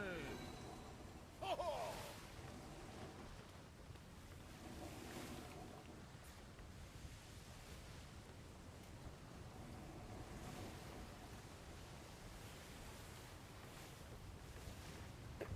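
A sailing ship in a video game rolls across ocean waves, with a steady, continuous rush of water and wind under a few scattered voices.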